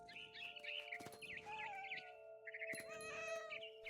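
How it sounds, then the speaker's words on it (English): A cat meows repeatedly in the video game What Remains of Edith Finch, a run of close, high mewing calls over a steady tonal game-music hum, with faint bird chirps mixed in. "And you just turn into a cat"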